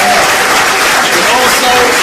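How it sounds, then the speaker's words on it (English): A room full of people at a talk by Bobby Hemmitt keeps up a dense, loud and steady applause that covers the whole span, with voices mixed in under the clapping. "Everybody, give Bobby a round of applause."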